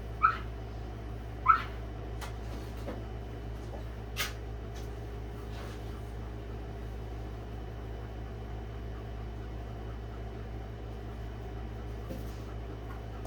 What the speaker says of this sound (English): I think one of my dogs is having a bad dream.